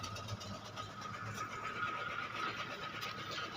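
A car engine runs rough on gas fuel in cold weather, a steady droning idle with a faint squeal and uneven pulsing throughout.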